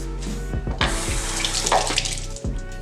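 A kitchen tap runs while hands are washed, a close, steady gush of water with splashing and slight shifts as the hands move under the stream.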